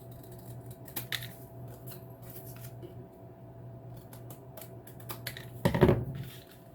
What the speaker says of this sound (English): I need to trim a little off so that we can have room for the book to fold